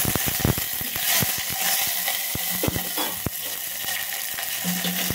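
Curry leaves and chillies sizzle hard in hot oil for a rasam tempering, a dense crackling hiss with sharp pops and spoon clicks scattered throughout, close and steady with no talk.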